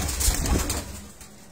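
Pigeons on a Faisalabad rooftop give a short, soft cooing burst, close and fairly faint, with a little rustle around them.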